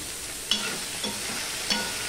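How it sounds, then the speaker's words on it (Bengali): Bottle gourd with salt and turmeric being stirred in a pan, a soft continuous sizzle broken by three spaced scrapes of the spoon, close and fairly quiet. "নুন হলুদ দিয়ে একটু নেড়ে চেড়ে আমি ঢেকে দিয়েছি"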